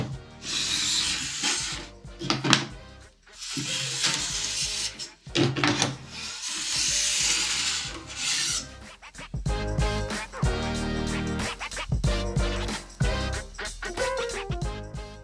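An edge tool is pulled along a ski edge at home, producing loud, repeated rasping strokes of several seconds each, close up, followed by shorter scraping passes.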